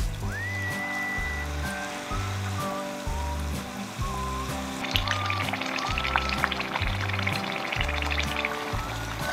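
Battered banana fritters fry in hot oil, a continuous soft sizzle and crackle running under steady, rhythmic background music, with no talking.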